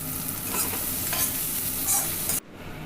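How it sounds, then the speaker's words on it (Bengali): Food fries in oil in a kadai, with a bright continuous sizzle and a few scraping stirs close by. The sizzle stops abruptly near the end and no one speaks. "এবার যখন মোটামুটি একটু ভাজা ভাজা হয়ে যাবে জিনিসটা, তখন সেটাকে আমি তুলে নিচ্ছি দেখো কড়াই থেকে"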